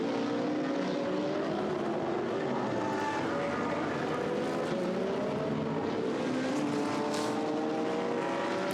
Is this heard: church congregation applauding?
no